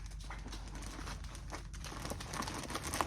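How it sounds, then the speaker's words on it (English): Close, steady crinkling and rustling of plastic or packaging while a knitting project is handled, continuous and fairly soft throughout with no speech. "sorry about all the crinkling"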